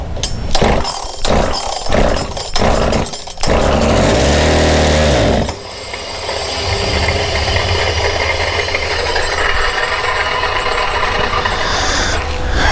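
A Makita 3711 small two-stroke engine with sludgy deposits fouling its plug, first revving in sharp bursts, then holding a steady loud high-pitched buzz at full throttle, running alone and close.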